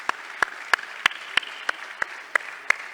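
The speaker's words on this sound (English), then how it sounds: "please give these ladies and gentlemen a wonderful round of applause" Sparse clapping at a conference opening ceremony, sharp, evenly spaced claps roughly every third of a second, fairly close and moderately loud, with no talking.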